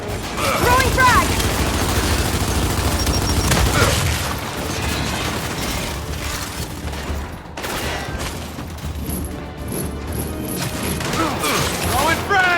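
Frag grenade explosions and gunfire in the Gears 5 campaign: dense, loud bursts of rifle fire and heavy booms that run continuously, with voices calling out over the combat.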